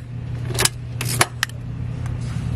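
A car key comes out of the ignition and the key bunch jangles in a few quick metallic clinks over a low steady hum from the vehicle, close up and with no voices.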